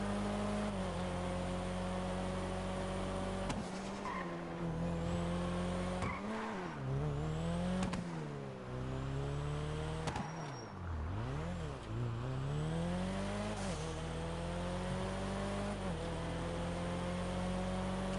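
Engine revving hard and rising through gears with brief tire squeal as a car launches down a drag strip in the video game GTA Online; loud, steady engine tone with repeated pitch sweeps at gear changes, no talking.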